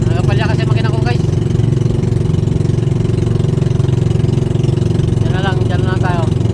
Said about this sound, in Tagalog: Nagapalya kasi makina ko guys.